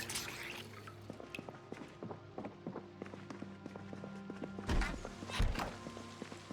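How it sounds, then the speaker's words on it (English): Rain falls in the zombie survival game Project Zomboid, a steady soft patter with scattered drips and plinks throughout, plus a couple of louder thumps near the end. "And of course it's raining"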